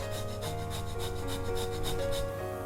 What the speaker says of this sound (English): we crush in a few cloves of garlic and grate some ginger